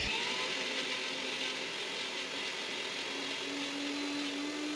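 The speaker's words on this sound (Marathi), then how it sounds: "सुरुवातीला पाणी न घालता मिक्सरला फिरून घ्यायचं आहे" An electric mixer grinder runs dry, grinding masala for an egg bharit, giving a continuous motor whir with a steady hum throughout and a tone that shifts slightly near the end; no one talks.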